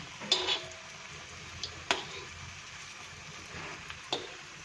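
Slices of aluvadi, a colocasia-leaf roll, are flipped and pan-fried, giving a few soft scattered clicks and scrapes of a spatula against the pan over a faint, quiet sizzle.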